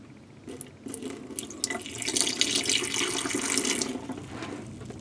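Pink RV antifreeze poured from a gallon jug into a drain trap in an R-Pod camper, a steady close splashing, gurgling stream that swells and then eases off after about four seconds, with no talk.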